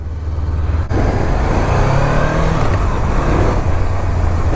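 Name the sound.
motorcycle riding around a parking lot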